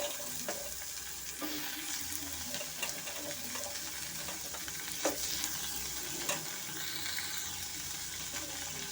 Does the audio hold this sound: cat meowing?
no